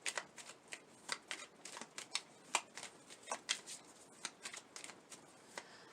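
Tarot message cards being shuffled close up, a quiet run of soft riffling snaps in an uneven rhythm, with no talking.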